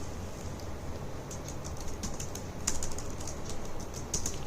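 Quick, light clicking of a computer keyboard while a C program is typed, a steady uneven patter of keystrokes close by over soft room hiss, with no one talking.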